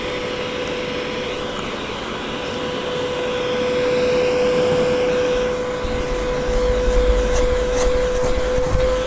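A Kiwi KCC 4325 upholstery cleaning machine runs with a loud, steady motor whine and airy suction roar, holding level and swelling slightly in the second half, with some bumping near the end.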